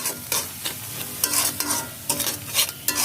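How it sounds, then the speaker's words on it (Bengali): Onion, ginger and garlic spice paste fries and sizzles in a pan, stirred in quick scraping strokes that come in uneven bursts, close and fairly loud, with no voices. "আমরা আবার ওই পেঁয়াজ আদা রসুনের পেস্ট ওই মশলার সাথে ভুনে নিব বা কষিয়ে নিচ্ছি"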